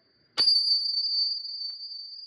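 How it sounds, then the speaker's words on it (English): A small bell struck once for an energy cleansing, a sharp bright strike followed by a long, pure ringing tone that slowly fades, close and alone. "you may hear a bell now"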